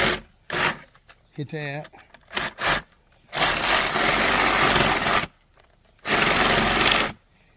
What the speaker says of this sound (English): come in with either a jigsaw or a sawzall and finish these out